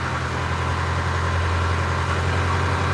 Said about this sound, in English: Oh, it's kind of idling.